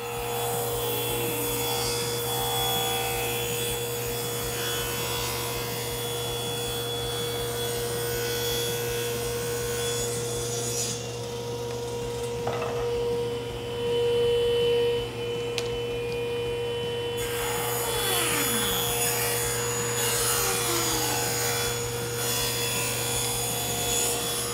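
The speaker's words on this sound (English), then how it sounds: "So run it through the table saw," A table saw rips wooden stock into a square blank slightly over 3/8 inch for making dowels, with a steady motor hum and a continuous rasping cut through the wood that briefly changes tone midway.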